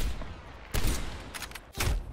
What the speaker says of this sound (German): So frech, dass man durch diese Wand durchschießen kann.